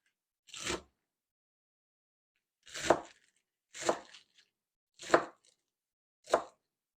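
A knife chops carrot tops, onions and greens on a cutting board in five quiet, separate strokes spaced about a second apart, with silence between them.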